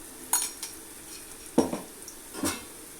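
Ginger garlic paste sautéed in a pan for hotel-style chicken dum biryani, with a few sharp metal spoon clinks and scrapes against the pan over a faint, steady sizzle.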